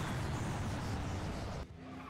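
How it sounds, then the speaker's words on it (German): A car in the racing video game FlatOut 2 skids and swerves with a loud, rough engine and tire roar that cuts off abruptly near the end. "Boah, wie der Wagen schlenkert."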